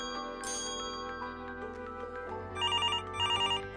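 A toy telephone rings with bright electronic trilling bursts, two clear ring cycles near the end, over a busy electronic tune and a brief clattery noise early on; no voices.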